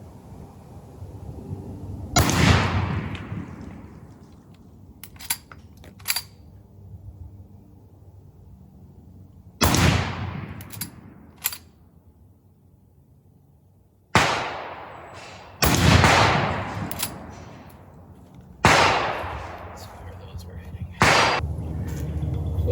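An original 142-year-old Winchester 1873 lever-action rifle in 44-40 fires about six sharp, loud shots spaced several seconds apart outdoors, each with a ringing decay, with faint lever clicks between them.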